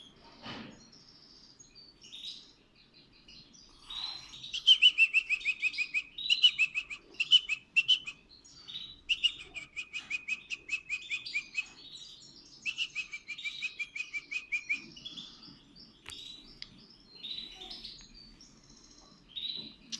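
Three-day-old goldfinch chicks give rapid, high, insistent begging chirps in repeated bursts while being hand-fed, close and fairly loud with quiet gaps between volleys.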